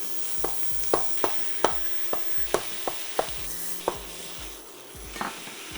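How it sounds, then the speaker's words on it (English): Ground turkey and ground beef fry in olive oil over medium-low heat, a constant close sizzle broken by regular spatula scrapes and knocks against the pan, about a dozen strokes. "Add 1 pound of ground turkey and 1 pound of ground beef."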